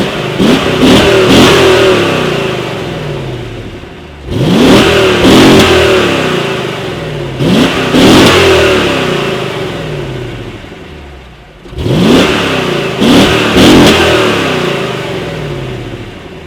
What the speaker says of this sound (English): I'll just give you guys a couple revs